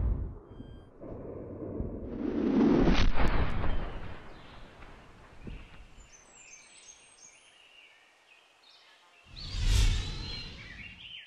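A single sharp rifle shot rings out at a stag during a hunt, preceded by rustling and a brief low rumble, then quiet outdoor air and a second loud burst near the end.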